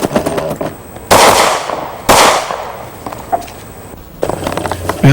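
Israel Arms Golan rifle fired by an instructor at a range, giving loud, sharp single shots spaced about a second apart with ringing decay, close and with no talking.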